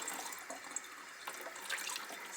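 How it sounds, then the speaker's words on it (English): Cold water runs steadily from a kitchen tap during pie-making, a continuous close splashing stream with slight dripping variation and no talk. "Cold out of the tap works."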